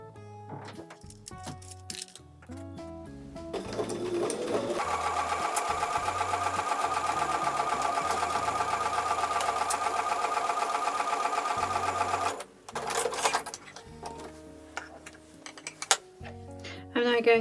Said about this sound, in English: And then I'm going to take them back over to the sewing machine.